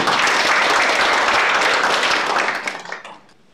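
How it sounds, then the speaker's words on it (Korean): Audience applause at a 2023 National Assembly forum in Korea on book-writing education, as a lawmaker comes up to give the opening address: a dense, steady round of clapping that thins and fades out over the last second. "힘찬 박수로 반겨주시기 바랍니다"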